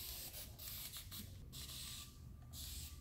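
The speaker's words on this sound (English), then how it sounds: "spray the hair damp with water" A spray bottle mists water onto hair, several quick, soft hissing bursts in an irregular rhythm, faint and close with no talking.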